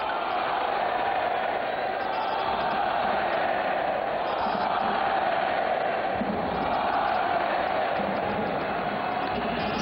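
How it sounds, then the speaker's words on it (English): A crowd at a futsal match between Egypt and Russia cheers in a steady, distant roar, with a commentator's voice faintly over the top. "The crowd are enjoying this."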